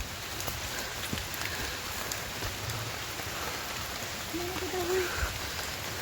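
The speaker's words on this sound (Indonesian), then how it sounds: "Oh, hujan semakin besar." Heavy rain falls steadily during a mountain hike on Gunung Butik at 1250 m, a dense, even hiss of drops close by with no pause, filling the whole stretch.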